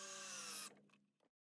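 Power drill driving a 4-inch screw into wood supports, a steady close whine that cuts off abruptly, followed by a few faint clicks and knocks before silence.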